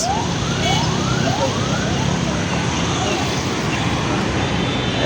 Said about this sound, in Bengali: কত অ্যাম্বুলেন্স,